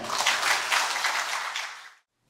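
Audience applause at a Buddhist dharma ceremony celebrating a head monk's 60 years as abbot and a commemorative book publication, a brief burst of many hands clapping together that cuts off abruptly after about two seconds.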